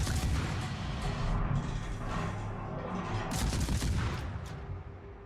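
Naval gunfire and shell impacts from World of Warships, with cruiser guns lobbing high arcing salvos in a dense, continuous barrage of booms and crashes layered over game ambience.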